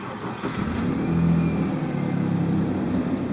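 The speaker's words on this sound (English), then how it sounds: "Now I'm going to go start the car." A car engine turns over and settles into a steady low rumble, rising slightly in loudness before idling evenly.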